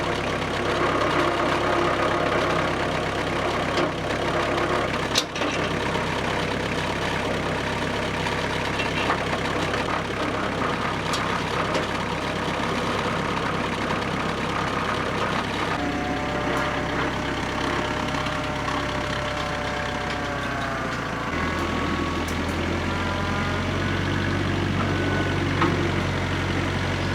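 Bulldozer fitted with ripper teeth cutting a path across a steep hill, its heavy diesel engine droning loud and continuous, with a deeper, throatier growl settling in toward the end.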